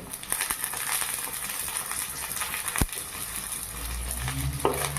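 Onions frying with green chillies and chopped tomato in a pan for a lentil dish with kulekhara greens, giving a steady broadband sizzle with stirring scrapes and a sharp clink near the middle, no talking.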